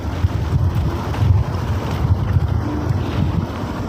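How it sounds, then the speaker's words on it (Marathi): Strong wind gusts across a burning hillside forest with dry, dead trees, roaring and buffeting the microphone in a loud, continuous rumble. "आता तर मी डोळे बंदच करून आहे, कारण की वारा पण खूप वाहतो."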